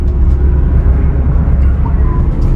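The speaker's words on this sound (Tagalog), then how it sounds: "may dumaan pang eroplano" An airplane passes overhead near the Statue of Liberty in New York, a loud, steady broadband roar that holds throughout with no talking.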